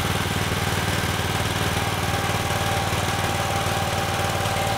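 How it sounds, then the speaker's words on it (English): A Spartan 727 drain cleaning machine runs steadily nearby as its pressure is increased, giving a loud, continuous engine-like drone with a rapid pulsing throb. "So you can hear the machine kind of change the sound. It's actually putting on pressure."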